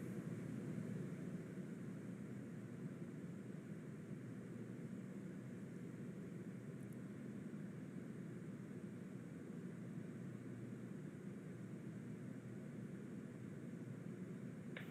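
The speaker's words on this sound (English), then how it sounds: "Stage 1 landing burn startup." Falcon 9 first-stage rocket during its landing burn on descent, heard as a steady, broad roaring rumble that holds without a break for the whole stretch, distant and unbroken.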